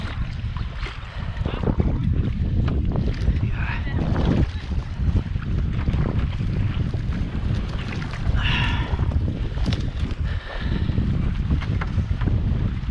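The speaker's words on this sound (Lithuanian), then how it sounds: "kokios bangos čia" Waves slap around a canoe on the Gauja river while wind buffets the microphone in a continuous roar, with brief voices and a whoop breaking through.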